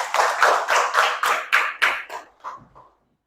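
A short burst of classroom group applause, loud and steady at first, then thinning out and fading to silence after a few seconds.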